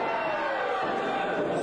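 A wrestling crowd at a live Wild Okanagan Wrestling event roars and cheers steadily, a dense, continuous wash of voices with a commentator talking over it.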